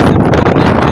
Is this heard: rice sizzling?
no